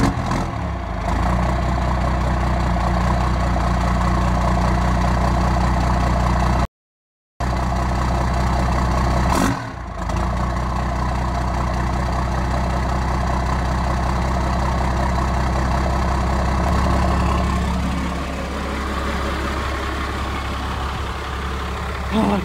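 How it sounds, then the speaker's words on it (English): A diesel truck with a bad wheel bearing idles after starting, its engine a loud, steady low rumble heard close up for the whole stretch, interrupted by one brief gap. "Oh, I could never get over the sound of that diesel."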